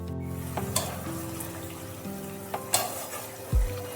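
Soft bubbling and sizzling from a pan of radish curry liquid coming to a boil, with a few sharp clinks and a low thump standing out above it.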